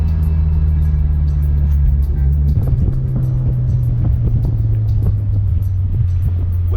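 A Honda S2000 sports car drives along, its engine droning steadily and then revving with shifting pitch, loud and close from inside the cabin with a constant low rumble of road noise.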